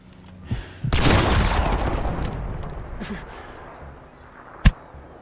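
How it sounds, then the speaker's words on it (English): An Easter egg drops into the Shipment map in a video game: a long, rushing burst of noise fades away, and then one sharp, loud thud lands near the end. "you're going to hear a thud sound, and that's going to be the Easter egg actually coming into the map"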